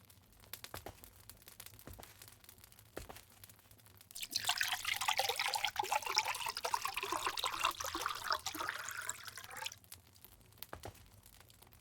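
Water is poured for a drink in a quiet Regency-era room, a steady trickling stream running for about six seconds between soft handling sounds.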